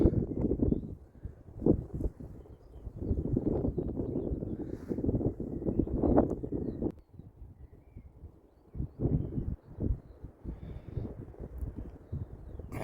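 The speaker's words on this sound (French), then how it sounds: "Il y a du vent partout." Gusty wind on the Way of St. James pilgrimage route buffets the microphone in low, rumbling surges that rise and fall, with quieter stretches between blasts and no other clear sound.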